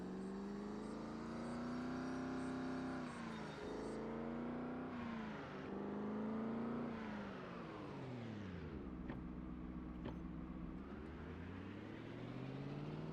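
A car towing a trailer in Project Zomboid, its engine humming and rising and falling in pitch as it accelerates and slows, steady and close with no talk.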